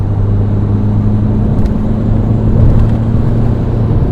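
A Mazda BT-50 bakkie accelerates to overtake on the road, its engine a loud, steady droning rumble with a low hum under broad road noise, heard close from inside the cab.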